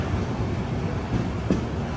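A train moves off from Palakkad railway station after a five-minute hold, giving a low, steady rumble heard from inside with a faint knock or two.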